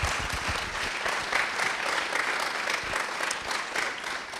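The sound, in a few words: audience applause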